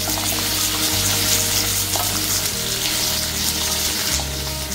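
Fennel seeds and garlic sizzling in oil while being stirred for a garlic pickle, a steady dense frying hiss with faint spoon scrapes, close and continuous with no talking.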